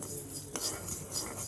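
Cumin, coriander and mustard seeds roasting in a pan give a faint, steady dry sizzle with soft metallic scrapes and a light clink partway through.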